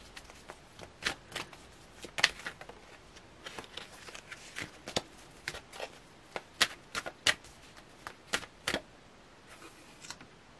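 Tarot cards being shuffled and handled during a reading, heard as a series of quiet, sharp riffling and snapping bursts scattered irregularly across the clip, close and faint.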